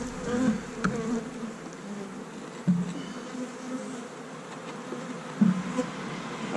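Honeybees buzz steadily around hives that have just been moved in an apiary, a dense close hum with occasional louder passes of single bees near the ear.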